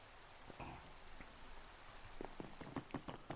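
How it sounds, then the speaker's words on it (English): Rain falls steadily in the survival video game Seaopolis 2, a soft, continuous patter with scattered droplet ticks growing a little more distinct toward the end, with no voices. "Come on, rain, go away."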